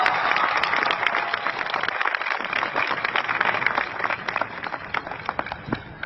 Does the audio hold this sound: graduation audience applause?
yes